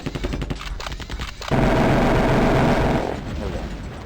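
Plasma rifle fire in the video game Terminator Future Shock, a rapid stutter of shots followed by a loud, dense sustained burst of gunfire, close and heavy.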